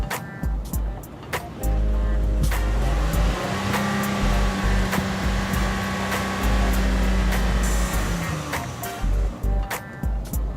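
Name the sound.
car engine running smoothly, used auction car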